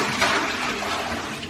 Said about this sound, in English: Now, I've got all this dirty water, so what you can do with that? We just throw it away.